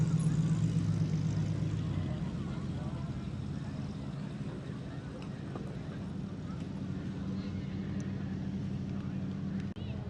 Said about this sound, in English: Car's leaving.